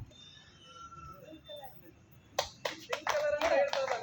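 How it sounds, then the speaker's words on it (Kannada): Loud applause breaks out after a few seconds of quiet chatter, several bursts of clapping from a group, close and dense, with a voice faintly in the background. "ಜೋರಾದ ಚಪ್ಪಾಳೆ"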